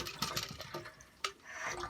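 Water poured out of a rabbit cage during scrubbing, a brief run of splashes and trickles with a couple of sharper sloshes, fairly faint and close.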